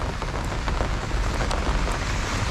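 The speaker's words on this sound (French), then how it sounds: "Il y a une sacrée saucée qui arrive là." Heavy rain pours down in a dense, loud, continuous hiss of drops striking surfaces, with no pauses or voices.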